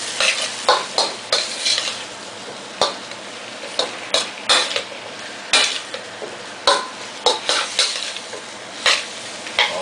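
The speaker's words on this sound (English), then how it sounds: "2 teaspoons of whiskey. Gotta like that, folks. Make it 3. Yeah, why not? Stir this in nicely." A spatula repeatedly scrapes and stirs sizzling chop suey with asparagus in a pan as whiskey is mixed in, with sharp rhythmic strokes over a constant frying hiss, close and loud.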